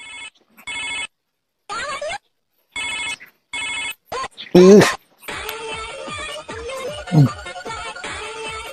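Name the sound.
mobile phone ringing with incoming call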